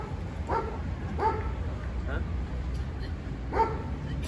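Dogs, livestock guardian breeds such as Kangal, bark in short bursts at Maçka Park, a few sharp yips spaced over a few seconds, set a little away, under a low background rumble.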